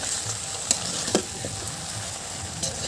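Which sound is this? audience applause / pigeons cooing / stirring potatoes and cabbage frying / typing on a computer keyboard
stirring potatoes and cabbage frying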